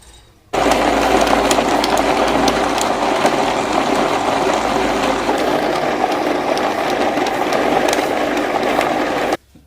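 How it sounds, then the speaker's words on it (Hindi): Electric grinder blending apricot and tamarind chutney, a loud, steady whirring motor that starts abruptly and runs continuously for several seconds before cutting off, with no talk over it. "अभी इसको ग्राइंड कर लेंगे।"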